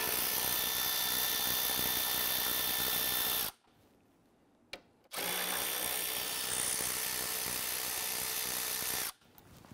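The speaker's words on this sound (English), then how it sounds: "Loosen and remove the two 10mm bolts underneath the headlamp." A power drill or driver runs loosening the two 10mm bolts beneath a Jeep Grand Cherokee headlamp, a loud steady whine for several seconds, a brief pause, then another long continuous run that cuts off abruptly, close up.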